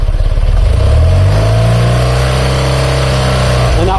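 A BMW Airhead motorcycle engine idles loud and close after gasket, valve, timing and carburetor work, a steady throbbing drone with a slight pitch rise that settles and holds.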